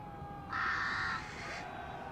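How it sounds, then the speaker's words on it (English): Crows caw across a battlefield strewn with bodies in the Thrones of Britannia strategy game, one harsh call rising over a low murky ambient bed, brief and mid-distance, with no speech. "Oh, the crows are already here."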